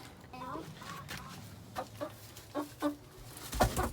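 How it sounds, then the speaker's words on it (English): A loose homestead chicken clucks near an egg on the ground outdoors, a series of short rhythmic clucks building toward a louder squawk at the end, with a person talking quietly underneath. "Oh, run away, chicken."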